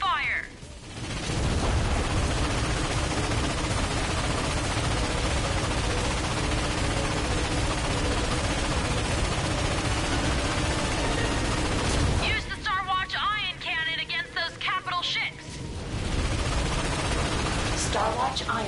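Dense, continuous rapid gunfire and explosive bursts in the video game Ratchet and Clank fill the clip, loud and relentless, with a brief lull of lighter crackling shots midway.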